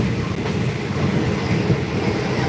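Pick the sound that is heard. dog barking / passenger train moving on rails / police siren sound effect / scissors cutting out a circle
passenger train moving on rails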